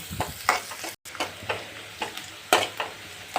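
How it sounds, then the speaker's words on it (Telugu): Onions and brinjal frying in a pan with a cut green chilli, the oil giving off a steady soft sizzle broken by repeated stirring scrapes at an uneven rhythm, close and moderately loud, with no voices. "ఉల్లిపాయలు గోల్డెన్ బ్రౌన్ కలర్లో వచ్చే వరకు ఫ్రై చేసుకుందాం"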